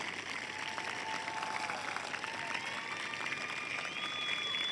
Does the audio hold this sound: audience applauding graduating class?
yes